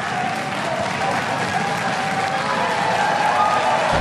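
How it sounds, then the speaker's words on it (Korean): Steady, dense applause from a large crowd at a League of Legends esports match, continuous and even throughout with a faint murmur underneath. "이제 관객도 박수를 치기 시작했고"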